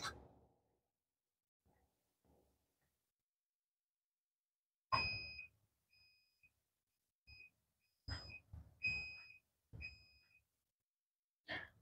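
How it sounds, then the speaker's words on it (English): A Magic Chef portable washer sounds its end-of-cycle alert, a series of short, bright electronic beeps in uneven clusters after several quiet seconds, mixed with a few soft thumps nearby. "So it beeps that amount of time to let you know it's done"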